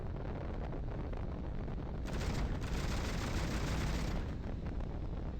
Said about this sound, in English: now we will be testing gunnery